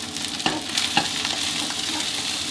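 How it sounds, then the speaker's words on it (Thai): Fried rice with naem and sliced spring onion tossed over high heat in a pan, a close constant sizzle broken by a couple of sharp spatula scrapes. "ผัดคลุกเคล้าให้เข้ากันดีอีกครั้งหนึ่งครับ"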